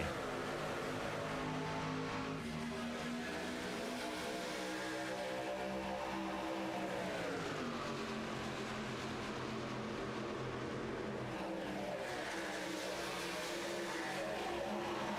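Race cars of the HTL Challenger Series, a racing game, roaring together at the green-flag start of the Michigan 300, a dense steady engine drone with rising pitch as the field accelerates, loud and continuous with no talk.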